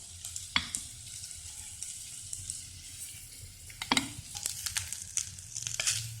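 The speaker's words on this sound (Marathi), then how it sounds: "आपला कांदा भाजतोय" Chopped onion roasts in a pan for egg curry, giving a steady, soft sizzle throughout with scattered clinks and scrapes of a utensil stirring against the pan. No voices.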